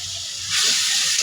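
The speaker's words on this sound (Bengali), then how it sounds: "গুঁড়া মশলাটা ভালো করে ভুনে তারপরে আমি এর ভিতরে জল ফেলে দিয়ে কষিয়ে নেব।" Ground dried chili spice frying in a pan, a steady close sizzling hiss that swells louder halfway through the brief moment.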